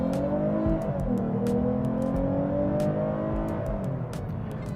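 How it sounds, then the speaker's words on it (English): A Lexus IS350 F-Sport with a 3.5-liter V6 drones steadily through its exhaust, heard from inside the cabin as the pitch sags and climbs slightly with throttle, loud and continuous with no talking. "being in the inside, the exhaust sounds amazing."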